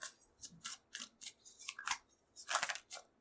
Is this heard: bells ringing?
no